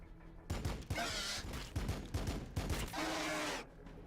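Pintle-mounted Stormbolter firing in Warhammer 40k: Battlesector, a loud burst of rapid automatic shots with sharp cracks and crashing impacts, running for about three seconds before cutting off.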